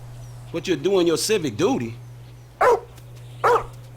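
In the game GTA 5, a dog gives a run of short barks and whining yips, followed by two separate louder barks, over a steady low hum.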